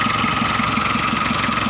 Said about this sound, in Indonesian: Nah itu kompresor hidup.